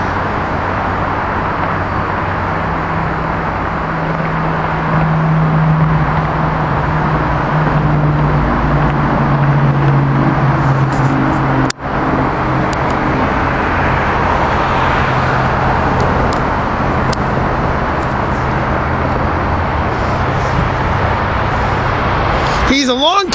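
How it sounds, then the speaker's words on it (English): Amtrak Keystone train 660 rolls steadily past with its cab car leading and an AM7 electric locomotive pushing, a sustained broadband roar with low steady hum and a brief sharp transient midway, while voices talk over it. "Here we got Keystone train 660 coming through."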